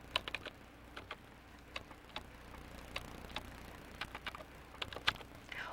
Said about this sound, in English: or use the numbers on my keyboard.